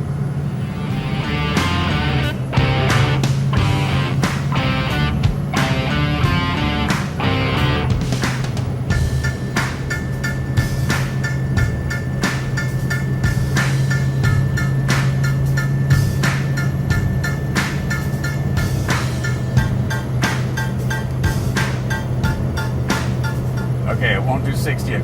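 A Ford 6.0 Powerstroke diesel pickup accelerates at quarter throttle from a standstill, a continuous droning engine and road roar heard from inside the cab, with speech over it and several short clicks and tones along the way.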